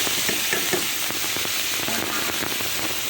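Hot oil in a pan readied for frying tiger prawns, giving a close, continuous crackling sizzle with sharp pops scattered throughout, no talking.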